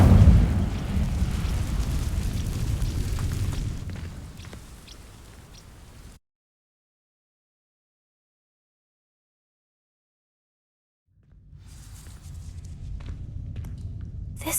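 Fire spell igniting dry vines in Hogwarts Legacy: a loud whooshing burst of flame roars and fades over several seconds, followed by a long silence before more rumbling crackle returns near the end.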